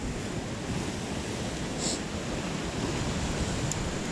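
Steady sea surf washing onto the shore at a fishing spot, a continuous broad rush of breaking waves with some wind buffeting, fairly loud and even throughout with no voices.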